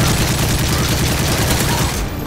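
Heavy, loud gunfire in Call of Duty MW3 Survival mode, a continuous barrage of overlapping shots and booms that fills the whole stretch before cutting off sharply near the end.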